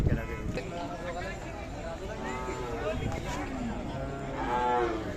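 Cows low at the Sangola cattle market in Solapur district, several moderate moos overlapping with the chatter of people and general crowd noise of the market.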